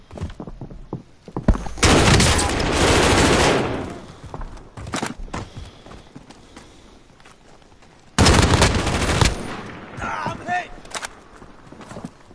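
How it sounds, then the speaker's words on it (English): Gunfire in the Warzone video game rattles out in two loud automatic bursts, one lasting about two seconds and a later shorter one, with scattered single shots and voices talking in between. "Zed, quick shoot him!"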